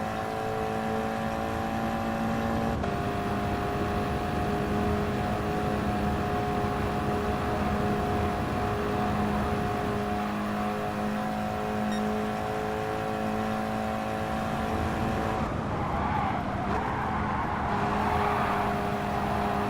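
Race cars lapping a circuit in Gran Turismo Sport on PS4 Pro, a steady droning engine note holding throughout, with a brief shift in tone near the end, loud and continuous with no talk over it.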